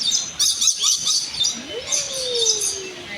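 Birds chirp in quick, high, bright bursts with a thin rising-then-falling whistled note partway through, close and steady over faint background noise.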